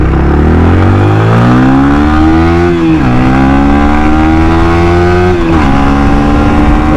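A Yamaha Sniper 155 motorcycle engine revs at full throttle, a loud, close drone climbing in pitch, dipping briefly at two gear shifts and then rising again.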